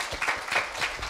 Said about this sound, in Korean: 두 학생에게 큰 박수 다시 한번 부탁드립니다